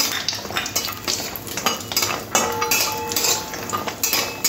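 Lentil dumplings (bori) fry in oil in a wok, and a spatula clatters and scrapes against the metal over a faint sizzle, giving busy, close utensil clinks without speech.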